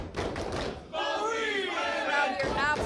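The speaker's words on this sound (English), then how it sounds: "Crowd here absolutely right, showing their appreciation for both these women." Wrestling crowd at a women's match roars with sustained cheering and shouted calls of appreciation, a dense, loud wall of voices that briefly dips before swelling again.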